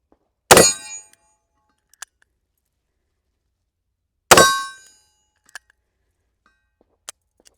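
Two loud, ringing metallic clangs about four seconds apart, revolver rounds striking steel targets on an outdoor range, each followed by a short decaying ring, with a few faint small ticks between.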